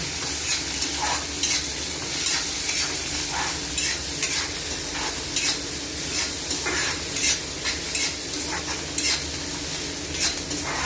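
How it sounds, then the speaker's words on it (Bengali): Shrimp lightly frying in a pan for a vegetable dish, a steady close hiss of sizzling oil broken by repeated scraping stirs every second or so, with no voices. "চিংড়ি মাছগুলো হালকা করে ভেজে দেবো।"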